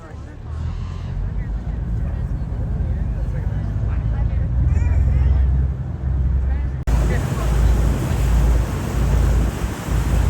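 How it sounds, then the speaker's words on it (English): Surf rolls onto Chapel Beach at Pictured Rocks, a constant low roar with heavy wind buffeting the microphone and faint muffled voices. "this beach we're crossing right now is Chapel Beach"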